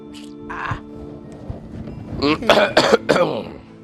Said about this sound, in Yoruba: bàbá ti wúkọ́